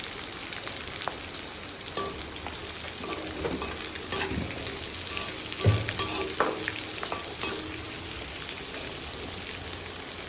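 Sliced onions frying on a high flame for poha, with a steady sizzle and occasional stirring scrapes throughout, fairly close and loud, with no talking.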